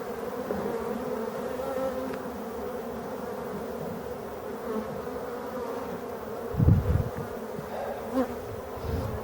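A dense, steady hum of many honeybees from a buzzing hive being shaken, moderately faint and continuous, with a couple of brief low thumps partway through.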